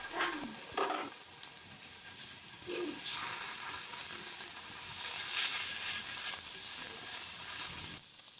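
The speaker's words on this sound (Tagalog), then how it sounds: "After ng ham, yung mushroom naman yung ating ipiprito konti." Mushrooms fry in a pan for a carbonara, making a soft continuous sizzle with occasional louder crackles and stirring scrapes near the start, heard alone at moderate distance.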